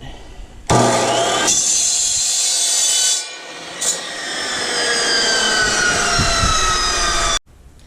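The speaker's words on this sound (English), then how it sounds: "I've got a piece of steel in here, and this has like a vise on it. And here we go, we're going to cut it." A diamond saw cuts a piece of steel clamped in a vise, giving a loud, close, high-pitched grinding whine. It runs continuously for several seconds, dips briefly, then resumes before cutting off abruptly.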